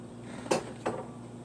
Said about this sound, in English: You just mix that all in real good and slow.